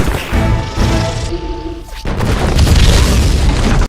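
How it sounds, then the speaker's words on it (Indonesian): Gunpowder goes off in a pirate film scene, a sharp boom cutting through a tonal score and followed by a loud, sustained roaring blast. "Jack muncul dan menembak bubuk mesiu tersebut sehingga meledak dan melukai Kraken."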